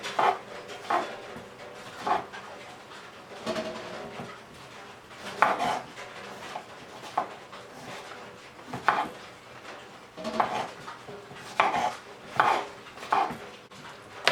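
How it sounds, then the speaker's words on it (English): A knife slices fresh strawberries on a cutting board while fruit is prepared for an acai bowl. Crisp, knocking cuts repeat every second or so, with a few quick strokes grouped together, heard close up with no talking. "I'm just going to slice the strawberries"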